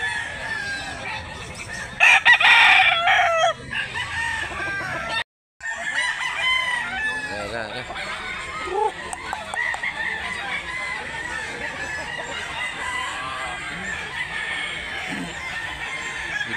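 A medium-size ten-month-old rooster at a chicken market in Mantalungon, Barili, Cebu crows loudly up close, followed by clucking and other fowl calls over a busy outdoor background.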